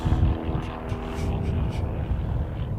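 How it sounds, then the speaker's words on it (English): A propeller airliner on an Air New Zealand Rotorua flight drones steadily in the background near an aero club field, a continuous low engine rumble with no clear peak. "in the background, we've got this Rotorua flight, Air New Zealand flight"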